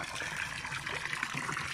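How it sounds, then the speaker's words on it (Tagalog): Water trickles steadily through a homemade three-chamber filter beside a concrete koi pond, a soft continuous splashing close by with no talk. "So, ito yung filter natin, yung DIY filter, 3 chamber."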